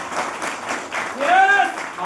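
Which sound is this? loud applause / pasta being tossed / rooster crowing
loud applause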